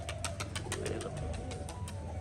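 Rajshahi pigeons released from a rooftop loft give soft, continuous cooing and rustling, with a steady low hum of outdoor background underneath.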